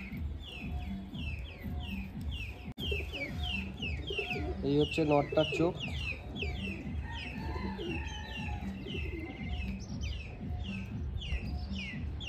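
Madrasi pigeons in a small loft coo and flutter amid constant chirping and clucking from other birds nearby, while someone talks over the birds.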